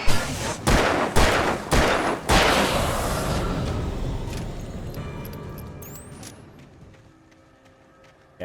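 Several sharp, loud blasts fired in quick succession in the video game Alan Wake Remastered, a flare gun among them, each with a long echoing tail, then a slow fading rumble. No talking.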